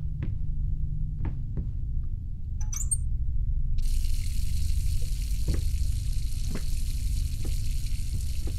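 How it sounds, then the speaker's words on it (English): A water faucet turned on in the horror game Layers of Fear: after a few quiet knocks, a steady hissing stream of running water starts abruptly and keeps flowing over a low hum, with occasional faint clicks. "Oh, I turned a water faucet."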